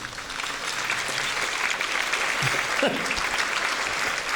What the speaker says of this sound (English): So everyone here, give yourselves an applause for tonight.